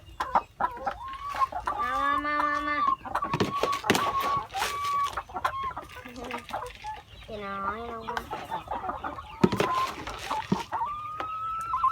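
Laying hens cluck and squawk repeatedly at feeding time on a small farm, close and loud, with someone talking and calling to them over the birds.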